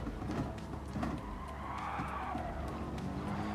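Race car lapping a circuit in Gran Turismo, a steady engine drone with a swelling pitch sweep and tire skids, continuous and fairly loud without talk.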